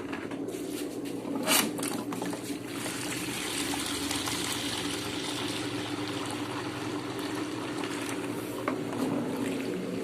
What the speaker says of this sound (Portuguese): Bomba d'água.